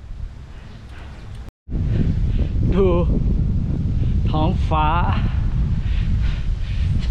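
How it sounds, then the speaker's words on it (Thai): Strong wind roars steadily against the microphone of a cyclist riding the Khao Loi route on a long road ride, a dense low rumble throughout that briefly cuts out, with someone talking over it. "ลมแรงมาก"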